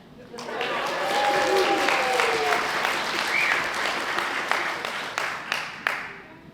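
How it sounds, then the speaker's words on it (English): At the Harrington Opera House, the crowd applauds a fiddler's retirement. Dense clapping swells in, holds loud and sustained, then thins into scattered claps near the end, with voices and a few whoops mixed in. "let's give her applause for her retirement."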